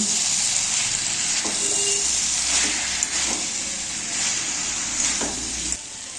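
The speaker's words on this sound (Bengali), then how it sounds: "দিয়ে দিচ্ছি ভেজে রাখা ডালের বড়ি দিয়ে দিচ্ছি পালং শাক পাতা কুচি তারপর একটু নেড়ে চেড়ে নিচ্ছি" Chopped spinach and pre-fried lentil dumplings tossed in a hot pan of mixed winter vegetables, making a steady, even hiss and sizzle with a few soft stirring strokes, close by.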